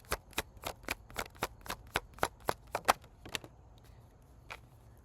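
Tarot cards are shuffled and pulled by hand in a quick run of about a dozen crisp riffling snaps, close and distinct, easing off into a few softer card slides near the end.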